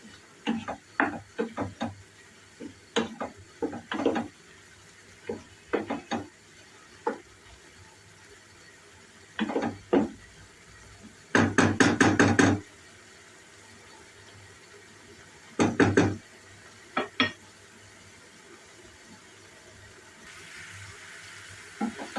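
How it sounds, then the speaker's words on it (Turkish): Mushroom sauté with spices being stirred in a pan, with intermittent scraping and clattering strokes in short bursts over a faint sizzle, close by with no talking. "Hepsini karıştırıyorum"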